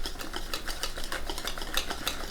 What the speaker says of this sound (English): Now what I'm doing is I'm just whisking it